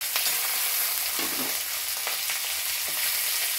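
Chopped onion frying in oil in a new kadai, with green chillies and curry leaves, making a close, continuous hissing sizzle with faint stirring scrapes throughout.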